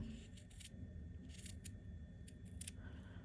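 Scissors snip through a small decorated journal page in several quick bursts of crisp cutting, close and fairly quiet over a steady low background hum.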